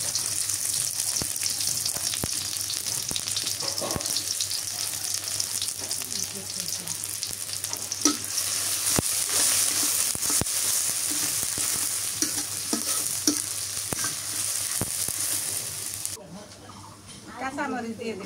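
Onions frying in pungent mustard oil while being stirred, a broad steady sizzle with repeated sharp utensil scrapes and clacks against the pan, a voice speaking faintly at times, quieter at the very end.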